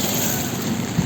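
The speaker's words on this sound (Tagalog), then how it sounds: "Malakas ang ulan." Heavy rain falling in a dense, steady hiss, pouring loudly and evenly over a short stretch with no voices.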